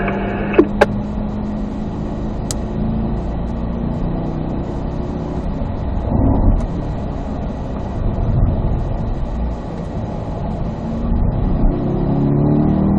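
A race car on a track accelerating out of a turn after coasting, a loud continuous engine drone that swells and rises in pitch over several seconds, with no talk.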